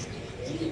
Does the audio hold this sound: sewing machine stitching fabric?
no